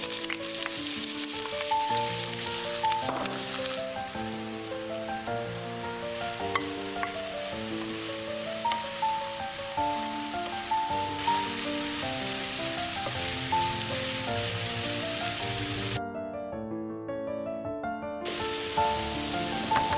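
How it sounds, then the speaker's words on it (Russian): Onion and carrot fry in vegetable oil with a continuous soft sizzle, partly masked by melodic background music that plays throughout and cuts out briefly near the end. "Лук и морковь обжарьте на растительном масле до готовности."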